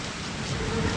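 Rain falls steadily on a street, a dense, even wash of noise throughout, fairly loud and close, with no voices over it.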